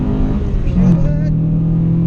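Engine of a 1998 Honda Accord Euro R CL1 revving up, loud and close, with the pitch rising as VTEC engages, while a person talks over it.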